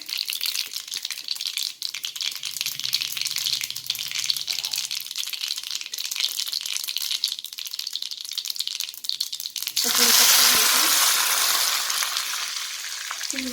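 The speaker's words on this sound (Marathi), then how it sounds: "जिरे मोहरी घातलेलं आहे तेल गरम झालेलं आहे" Cumin and mustard seeds crackling in hot oil for a tempering, a steady close sizzle that suddenly swells into a louder, harsher hiss near the end, with no talking.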